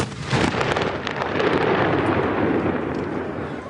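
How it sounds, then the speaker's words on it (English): Continuous booming gunfire echoing across a wide open space, deep rumbling blasts blending into one another without pause, loud and sustained. "I'm safely behind the guns now, and they're just firing them off over the city."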